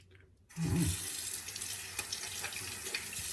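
A bathroom tap turns on and runs steadily into a sink while someone rinses their face after shaving with a safety razor, a close, continuous splashing gush with small splatters from the hands.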